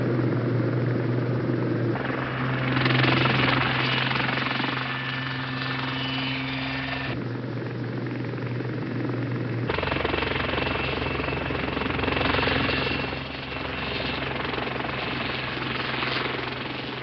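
A Lynx military helicopter flies steadily close by, its engine roaring and rotor thumping without pause, the tone shifting slightly as it passes, with no voices.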